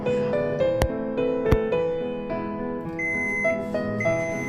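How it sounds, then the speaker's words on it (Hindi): A Samsung microwave oven emits its tones as it switches itself off after baking a veg pizza, clear steady electronic pitches close by, with two sharp clicks partway through. "यू कैन सी बीप के साथ ही अपने आप बंद हो गया अवन।"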